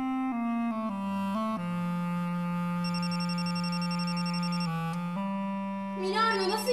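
A phone rings with a steady, sustained electronic ringtone of held tones that step in pitch, playing alone with no talk until a brief sound near the end.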